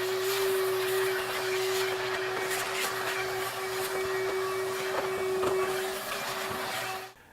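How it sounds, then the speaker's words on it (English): A shop vacuum sucking lint from inside a clothes dryer runs steadily with a loud whining hum and rushing air, continuous for several seconds before cutting off at the end. "take the shop vac and actually vacuum all the lint out of the inside of the dryer"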